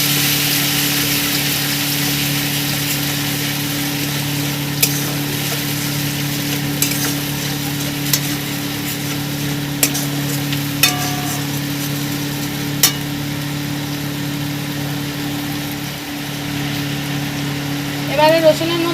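Garlic sizzles steadily in oil in a pan while being stirred for a Punjabi dhaba-style rajma, a constant frying hiss with occasional scrapes and clicks of the spoon throughout.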